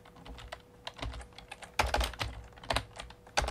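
Fingers tap out code on a computer keyboard in irregular quick bursts of clicks, close and fairly quiet, with a few louder keystrokes.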